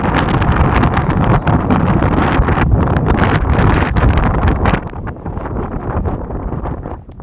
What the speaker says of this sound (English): It is absolutely so windy.